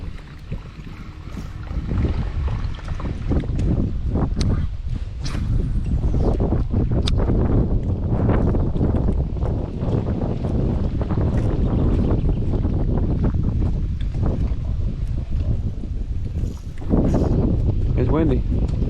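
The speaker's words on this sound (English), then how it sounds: "It's windy." Strong wind buffets the microphone on a lake during a rainy fishing trip, a loud continuous roar with gusty swells throughout, and people talk underneath.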